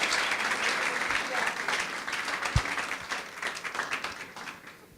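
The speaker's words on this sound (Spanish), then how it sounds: "¿Cuántos dan un fuerte aplauso al Rey?" Applause from a church congregation during a Spanish-language service, a steady dense clapping that gradually thins out, with voices heard among it.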